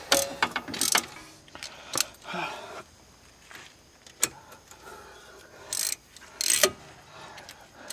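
Ratchet wrench tightening bolts on a 2008 Chevy Impala front wheel bearing, a few short bursts of clicking spread across the clip, close by with quiet gaps between.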